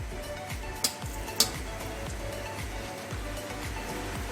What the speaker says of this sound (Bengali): শুকনো লঙ্কাটা ভেজে নিচ্ছি